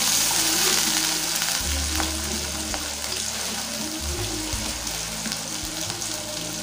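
Diced, peeled potato sizzling and frying in a pan for a vegetable puff filling, a loud steady crackle with stirring scrapes through the middle.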